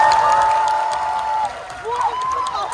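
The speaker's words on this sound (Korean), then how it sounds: "힘찬 박수 부탁드리겠습니다" A full cinema audience at a film stage greeting at CGV Yongsan applauds and cheers, the crowd noise running under a loud voice on the sound system that rises and falls.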